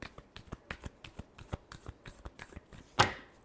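Tarot cards being shuffled by hand, a quick run of crisp riffling flicks about four per second, ending in one louder sharp slap of the deck, close and alone with no talk.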